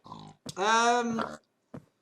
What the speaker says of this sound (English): I'm riding a pig, using a carrot on a stick, like you do.